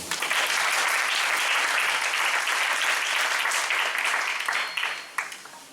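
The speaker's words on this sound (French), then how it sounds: "On acclame pour le Seigneur." A church congregation claps for the Lord in loud, dense, sustained applause that fills the room, then tapers off into a few scattered claps near the end.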